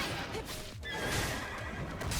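A hammer-headed horse-like creature in Stellar Blade gives a neighing whinny amid dense, loud combat noise, close and continuous throughout.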